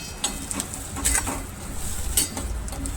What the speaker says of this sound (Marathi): हे मस्तपैकी झालेलं आहे, फ्राय होत आहे छानपैकी